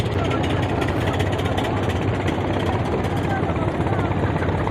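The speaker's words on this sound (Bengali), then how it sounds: "মোনাজাত করে এখন এই ট্রলার যাওয়ার দৃশ্য দেখতেছেন" Engines of crowded trawler boats pulling away after the Ijtema prayer, a loud, steady, unbroken droning rumble close by that runs throughout.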